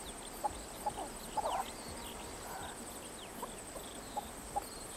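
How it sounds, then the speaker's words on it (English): Chukar, the Himalayan partridge, calling on a Central Otago hillside: a series of short, repeated clucking notes spaced through the clip, moderately distant over a steady background hiss and high insect-like whine. "You hear that sound, the chuka chuka chuka noise? It's the name of a bird, the chuka. Certainly a lot easier to say than Himalayan partridge."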